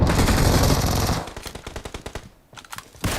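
Rapid video game gunfire rattles out in dense machine-gun bursts, loud and continuous for over a second, then breaks into separate quick shots with a short pause before another burst.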